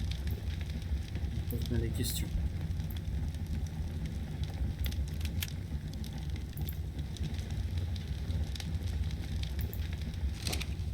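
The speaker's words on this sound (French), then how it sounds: "Je retourne à mon petit feu de camp." Soft crackling and popping of a campfire in the video game Ark Survival Evolved, with a low rumbling roar, sporadic sharp snaps, while someone speaks quietly over it.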